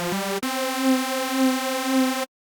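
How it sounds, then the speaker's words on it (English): Simple Supersaw synth patch from a Wavetable instrument rack: a buzzy, bright sustained chord after a quick pickup note, held steady with gentle swelling for about two seconds, then cut off. "which is just a really nice, simple Supersaw sound"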